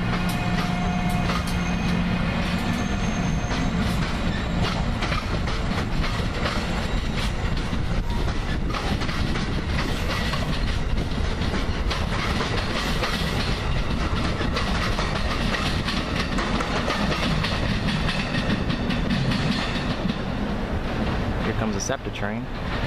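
An Amtrak train hauled by an AEM7 AC electric locomotive rumbles past with steady clickety-clack of wheels over rail joints, loud and continuous throughout, with faint voices in the background.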